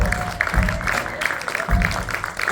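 Audience applause for a guitarist at a band's live gig in a Horst pub, steady clapping from a crowd filling the room, with some voices mixed in.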